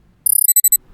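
An alarm going off: a rapid burst of high electronic beeps followed by four slower, evenly spaced tones, loud and clean against near silence.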